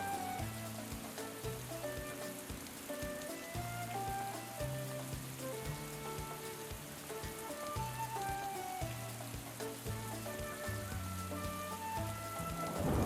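Steady rain patters and hisses throughout a stormy scene in the video game Atelier Ryza 2, with low rumbles of thunder under a looping musical score, evenly loud from start to finish.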